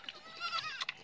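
A goat bleats in a short, quavering call on a farm with piglets and chickens, heard close and alone, with a brief second cry near the end and no talk.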